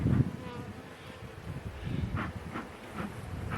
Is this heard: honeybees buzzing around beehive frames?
yes